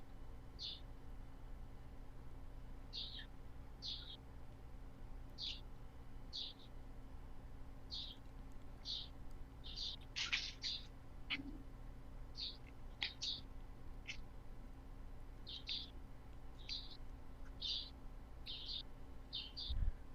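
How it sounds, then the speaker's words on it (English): Birds sing outside an open window, giving short, high chirps repeated every second or so over a faint background hum; distant and soft, with a few louder bursts midway. "Somebody has some really pretty birds in the background."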